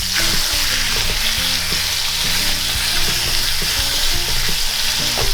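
Chicken pieces laid skin-side down in hot olive oil in a pan, giving a loud, steady sizzle and crackle with scattered low knocks and clatters, no talking.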